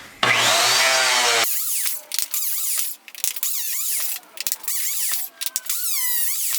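A biscuit joiner whines loudly for about a second as it cuts a slot into a wooden cabinet board, followed by scraping, squeaking and thumping as it slides along the board.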